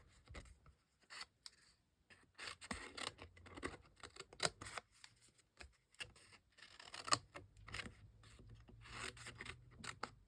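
Scissors fussy cut paper around a printed image, producing quiet, close, irregular snips and crisp paper rustles scattered over ten seconds with brief pauses and no talking.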